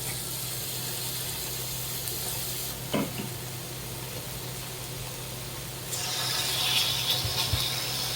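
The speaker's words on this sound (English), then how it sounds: "It's starting to sizzle." Chicken and broccoli sizzle steadily in a hot pan, a constant crackling hiss with a brief clatter partway through, growing louder and more intense toward the end.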